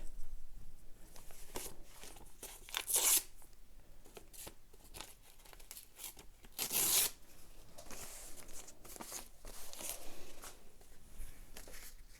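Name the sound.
tearing painted red paper for mixed media collage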